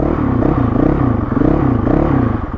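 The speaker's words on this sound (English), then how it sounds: "everyone always wants to hear the exhaust start up" A Honda CRF450L dirt bike with the stock baffle still in idles and revs close by, giving a steady, throaty exhaust rumble with gentle rhythmic swells and no talking.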